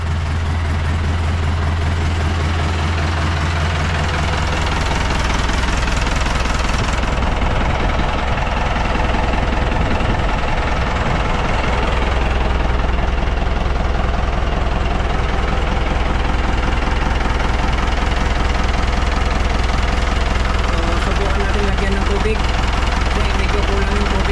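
A steady, low engine idle rumbles continuously throughout after a thrust washer replacement, with a faint mechanical knock underneath and occasional background voices.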